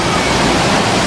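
Water splashing at a theme park safari boat ride, a loud, dense, continuous rush of spray filling the short moment without talk.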